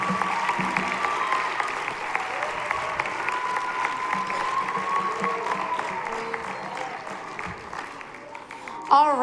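Audience applause at a middle school winter concert, honoring the teachers, a steady broadband clapping wash lasting throughout at moderate level, with some crowd murmur and tones underneath before it thins near the end.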